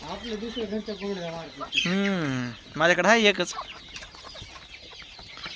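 Village chickens and a multicoloured rooster cluck in a farmyard, with two drawn-out, tonal calls standing out in the middle while someone talks close by throughout.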